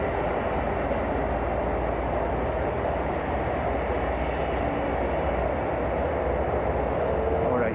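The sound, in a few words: airliner jet engines at Miami International Airport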